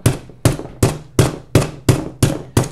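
Eight sharp, evenly spaced blows land on a rock as it is chopped and whacked with a tool, each a loud, close crack with a short decay and no talking.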